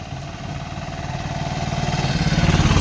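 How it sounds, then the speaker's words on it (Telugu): A motorcycle engine rumbles steadily, its throbbing growing louder as it approaches along a road in the hills at Udayagiri, Nellore district, with no talking. "ఇప్పుడు ఒక బైక్ కూడా పోతుంది రోడ్డు మీద"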